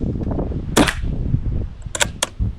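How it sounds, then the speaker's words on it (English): CO2 airgun firing at cardboard dynamite targets: several sharp, loud cracking shots, one early and a quick cluster of three near the end, with faint handling noise between them. "why don't we just shoot the dynamite and make them blow up?"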